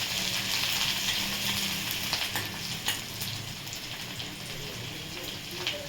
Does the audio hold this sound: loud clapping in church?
no